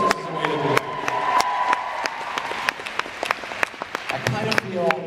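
Audience at a fan convention panel breaks into steady applause, a dense patter of clapping with sharp individual claps standing out close by, lasting several seconds.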